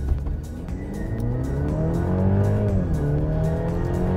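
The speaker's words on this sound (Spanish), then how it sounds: "Vamos a fondo, 2000 revoluciones." A Mercedes-Benz GLC 300 4MATIC hybrid accelerates hard in Sport mode, its engine note climbing steadily, dipping briefly at a gear change, then rising again, loud and close inside the cabin.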